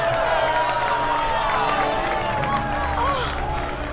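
A game show studio audience cheers and claps loudly for a contestant walking into the arena, a dense continuous roar with excited voices mixed in.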